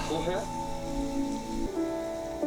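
Rain falls in a TV drama scene, a steady hissing patter mixed with sustained tonal music, shifting abruptly partway through.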